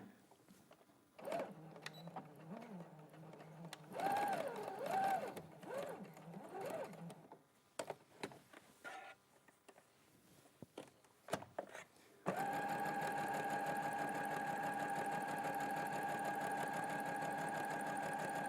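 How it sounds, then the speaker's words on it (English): Sewing machine stitching down a seam allowance between two diagonal lines, starting after a stretch of talk and then running steadily and loudly without a break to the end. "So you're sewing down the seam allowance between the two diagonal lines and then down the diagonal line."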